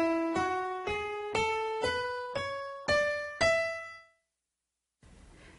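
Single notes of the E Mixolydian mode ring out one at a time in a rising sequence, six clear decaying tones that fall silent before a faint tail of room noise.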